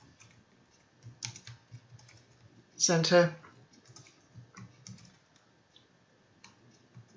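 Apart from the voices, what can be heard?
typing on computer keyboard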